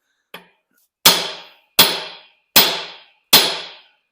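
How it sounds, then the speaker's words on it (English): A hammer strikes the jammed rear axle of a John Deere 4055 tractor: one light tap, then four loud, ringing metallic blows spaced evenly about a second apart, each decaying quickly into silence. "we need to just strike the axle"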